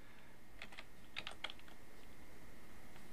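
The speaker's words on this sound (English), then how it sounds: "So I'm just going to type in here power." A few faint taps on a computer keyboard, a short cluster of clicks in a quiet room with low background hiss.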